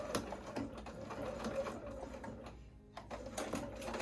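Sewing machine stitching a green tote bag, a soft rapid whirring run of stitches with brief pauses, faint and close.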